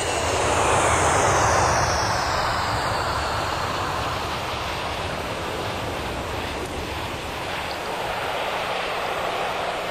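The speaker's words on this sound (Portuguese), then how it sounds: "Um novo dia, outro avião repleto de passageiros" A passenger airplane's engines roar in a steady, loud, broad wash of noise that holds for the whole stretch with no voices.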